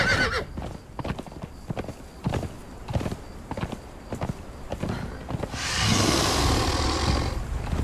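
Rhythmic hoof clip-clops of a horse moving at pace in the video game Conan Exiles, with a whinny, giving way to a rush of windy noise near the end.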